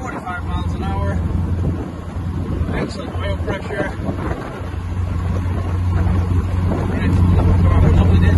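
A 1966 MG Midget sports car drives uphill in third gear with the roof off, its engine holding a steady, low drone under heavy wind buffeting that grows slightly louder toward the end.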